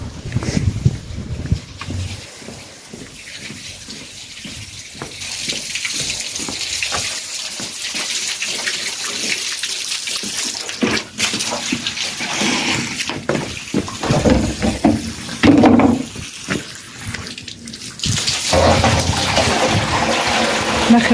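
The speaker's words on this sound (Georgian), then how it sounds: "წყალი გადმოვიდა" Water rushes loudly and steadily as it runs and overflows from a filling tank, a continuous broadband gush that swells and dips over about twenty seconds with no clear talking.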